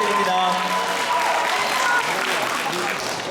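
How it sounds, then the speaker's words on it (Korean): A school speech contest audience gives a student speaker a big round of applause: dense, even clapping filling the room, with faint tonal background sounds running underneath. "큰 박수"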